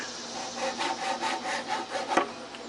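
A hand saw cuts through a wooden board while building a saw horse, a rhythmic series of close rasping strokes, about seven in a row, with no talking.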